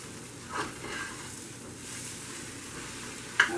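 Poke salad greens sizzle quietly in cooking oil, a soft steady hiss with a few faint stirring bumps and one brief sharp clink near the end.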